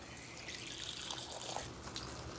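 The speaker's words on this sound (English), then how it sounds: "So I'm going to fill up this water." Filtered water runs from a hose or tap into a container for exterior window cleaning, a steady faint splashing stream that holds throughout without speech.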